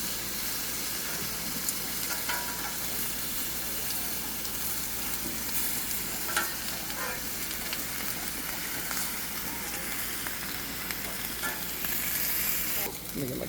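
Corn, mushrooms and onions sizzle on a hot BBQ grill at an outdoor family cookout. The frying hiss is steady and close, with occasional crackles and pops, and carries on without talk.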